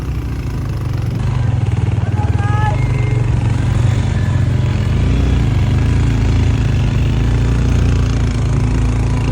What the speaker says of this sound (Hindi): ये सामने भाई बाइक पर आ रहे हैं।